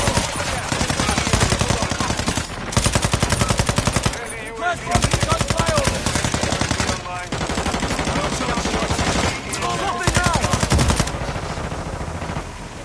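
Continuous rapid automatic gunfire from Modern Warfare 2 online play, loud and dense bursts with brief pauses, sustained throughout, with faint player chatter underneath.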